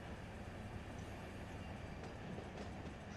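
Freight train rolling along in the Run 8 train simulator, a steady dense rumble with faint rail clatter throughout.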